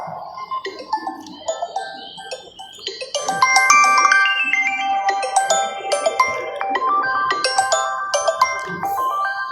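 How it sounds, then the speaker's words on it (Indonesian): A mobile phone ringing with an incoming call: a sparse chiming intro gives way to a busier melodic ringtone of layered bell-like tones, playing steadily and fairly loud, with faint background murmur and no clear speech. "Sekedap kula nerima telepon, nggih."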